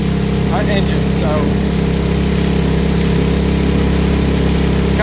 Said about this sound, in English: I'm going to make sure the engine's well warmed up before we start doing that little max throttle routine on this engine